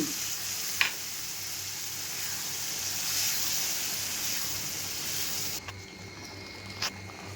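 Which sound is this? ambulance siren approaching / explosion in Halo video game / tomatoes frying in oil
tomatoes frying in oil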